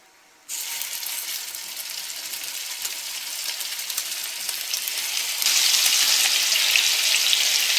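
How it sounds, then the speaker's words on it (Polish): After a moment of quiet, a loud steady sizzle of bacon-wrapped minced meat patties hitting hot oil starts and continues, growing a bit stronger later on. "Olej się już dobrze rozgrzał i teraz będę wkładać nasze kotlety tym łączeniem na dół."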